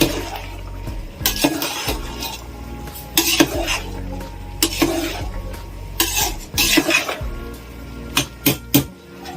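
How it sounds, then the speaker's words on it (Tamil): A spoon stirs jeera rice in a metal cooking pot, giving a run of close scraping and clanking strokes with sharp metallic knocks against the pot, irregular in rhythm and with no talking. "இப்போ ஓபன் பண்ணிட்டு கொஞ்சம் நல்லா மிக்ஸ் பண்ணி விட்டுக்கலாம்."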